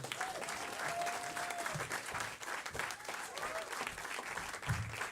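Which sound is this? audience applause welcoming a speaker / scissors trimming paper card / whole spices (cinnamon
audience applause welcoming a speaker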